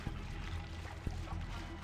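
Sloshing, pouring water as a character wades through sewage water in Deus Ex: Human Revolution, a steady close watery churn with one brief splash in the middle.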